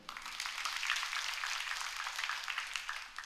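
A church congregation at a Sunday worship service applauds in a steady, dense patter of many hands, held evenly at moderate distance for the whole stretch.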